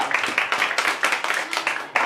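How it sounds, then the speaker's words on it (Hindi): An audience claps at the grand opening of a recording studio, a steady rhythmic round of applause from a small nearby crowd with a voice talking over it. "एक बेर प्रभास भाई जी के लिए ताली सब बजा लो जोर से।"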